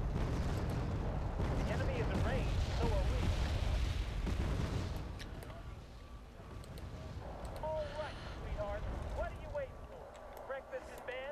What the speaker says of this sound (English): As you can see, artillery.